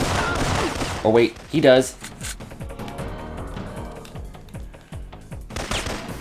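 A rapid volley of .45 pistol shots in the Syphon Filter game, sharp cracks in quick succession, with someone speaking briefly over the gunfire.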